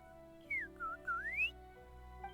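A character whistles a short, bright melodic phrase in the video game Genshin Impact: a few sliding notes rising and falling over about a second, clear and close over a faint steady background hum.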